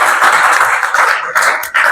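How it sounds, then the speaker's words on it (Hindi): Audience clapping at a district-level quiz competition prize announcement in Hazaribag, Jharkhand, a dense, steady burst of many hands filling the room for two seconds, with a brief dip near the end. "जोरदार ताली बजाइए, जोरदार क्लैपिंग करेंगे।"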